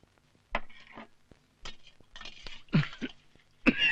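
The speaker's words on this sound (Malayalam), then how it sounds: "ഈ ചുമ എപ്പോഴും ഉണ്ടോ?" A man who smokes beedis coughs in several harsh, uneven bursts with short gaps between them, close and fairly loud, with a few faint clinks in the quiet room.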